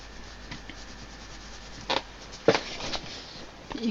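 Loose bits of Caran d'Ache Neocolor crayon are rubbed back onto the crayon, giving a few short, soft scraping rubs in quiet surroundings.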